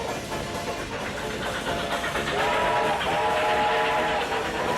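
A runaway model freight train, number 21, rushes past on its track with a loud continuous rumble and rattle plus a sustained whistle-like tone rising toward the end.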